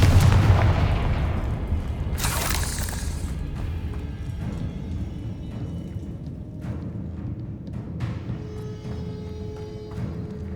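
Confringo blasting curse explosions in Hogwarts Legacy, a heavy boom at the start and a bright burst soon after, followed by scattered thuds and impacts over a low rumbling game soundscape.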